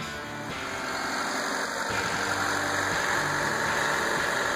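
A car engine runs at a steady idle just after its fuel filter was replaced, a continuous close rumble with a light mechanical whir and no speech.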